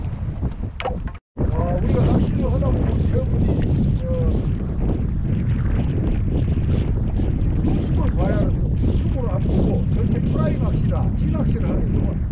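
Strong sea wind buffets the microphone at a coastal fishing spot, a loud rumbling roar that runs nearly continuously, with a brief dropout near the start, while someone talks over it.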